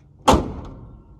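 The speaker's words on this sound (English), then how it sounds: "Kind of have to slam the hood to get it to latch." A van hood slammed shut to latch: one loud, close metallic thud with a short rattling tail.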